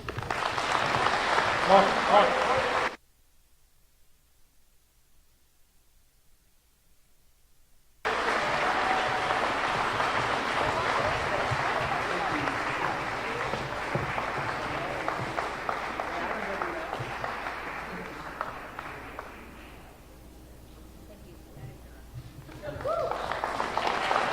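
Audience applause fills a high school sports hall of fame induction, broken by a stretch of silence, then swelling again, fading briefly and returning, with some voices mixed in.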